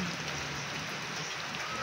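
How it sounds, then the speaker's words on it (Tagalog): Steady rain falls heavily and evenly in a continuous hiss, close and uninterrupted. "Hindi na po talaga ito ambon, kundi ulan na po"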